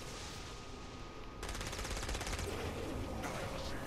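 Rapid automatic gunfire from Saints Row: Gat out of Hell, a dense sustained burst that kicks in partway through over a constant din of game noise, loud and continuous to the end.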